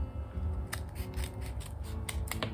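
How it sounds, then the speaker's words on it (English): Quiet scissors snipping open a paper seed packet, several short crisp cuts in quick succession over a low background hum. "Good job I got a pair of scissors."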